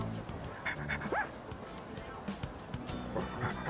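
A dog yips and whimpers in the video game Persona 3 Reload, several short excited barks and whines scattered under a person talking.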